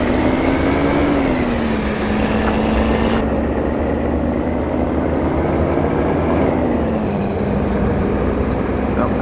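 Heavy truck engine drones steadily throughout in a Brazilian truck driving game, a rated 450-horsepower rig on a farm road, with pitch shifts as it accelerates and faint air brake hisses, someone talking over it.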